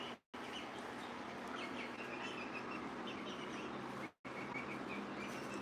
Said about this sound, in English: Do you like my chickens?